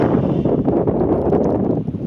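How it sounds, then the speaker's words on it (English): Gusty, rainy wind near Ketchikan roars and buffets close to the microphone, a loud rumbling rush that never lets up. "It's windy and it's nasty."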